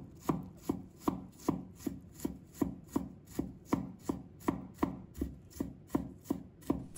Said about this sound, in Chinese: 准备一块生姜，把它切成片。 再切成丝。 然后切成末。